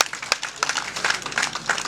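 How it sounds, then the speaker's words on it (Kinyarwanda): Guests at a reception clap in a loose, uneven patter of moderate loudness, with scattered claps rising and falling throughout. "amashyi menshi cyane"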